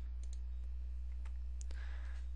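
A computer mouse clicked several times while navigating a Facebook group page, faint scattered clicks over a constant low electrical hum.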